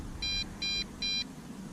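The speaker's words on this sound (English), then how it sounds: "it looks like we have a low battery alarm" MJX Bugs 5W GPS brushless drone sounding its low battery alarm: three short, even, high-pitched beeps in quick succession over a faint background hum.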